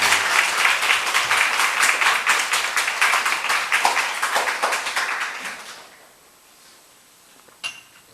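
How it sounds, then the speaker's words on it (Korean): A church congregation applauds at a Sunday worship service, with dense sustained clapping for about six seconds that then fades out, leaving near silence and one brief sharp knock at the end. "박수로 한번 격려해 주시면 좋겠습니다"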